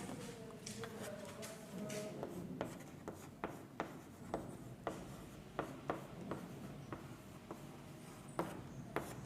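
A pen writing a math formula on paper, a quiet run of close scratchy strokes and taps in an irregular rhythm, faint throughout.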